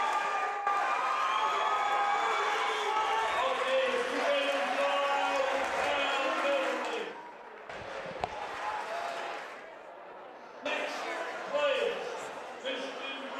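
A wrestling tournament crowd in a county gym reacts with a sustained, loud wash of booing and shouting that drops off midway, then swells again briefly, with scattered voices throughout.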